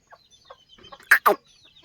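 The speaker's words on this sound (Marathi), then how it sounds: "मस्त ही कोंबडी कोंबडी पण ओपून दिसते वातावरणात" A village chicken gives a few soft, scattered clucks, then two louder, sharper squawks close by, outdoors in rural Maharashtra.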